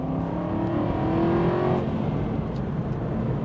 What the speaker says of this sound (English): drop that beautiful 6-speed gearbox down, squeeze the throttle